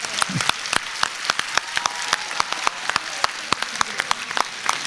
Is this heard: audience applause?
yes